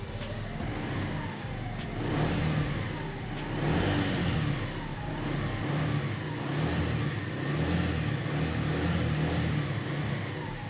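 A Keeway SR125 motorcycle engine idles with a smooth, steady hum, then is revved several times in rising and falling surges, each blip swelling loudly before settling back to idle, close by and with no talking.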